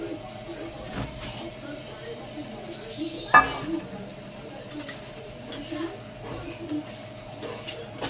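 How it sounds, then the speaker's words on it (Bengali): Fried potatoes tossed through spice masala in a pan for khichuri, giving a soft steady scrape and stir over a low sizzle, with one sharper utensil clink near the middle and background voices. "তো ভালো করে নাড়িয়ে নিচ্ছি"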